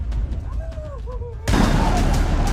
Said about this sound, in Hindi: केवल और केवल धमाके की आवाज सुनाई दे रही है। बीच बीच में फायरिंग के शॉट्स सुनाई दे रहे हैं।